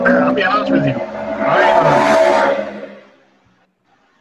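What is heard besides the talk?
loud motorcycle passing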